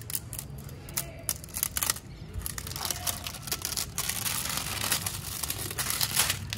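Crinkly plastic packaging of a Hero Plus kite string (manjha) spool being torn and crumpled open up close, a steady run of crackling rustles and sharp tearing bursts with no speech.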